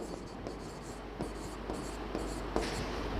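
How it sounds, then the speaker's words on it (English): Pen or pencil writing a short sentence by hand, with soft scratchy strokes and a few sharper taps at steady low level against faint room noise, no talking. "So I can write like this."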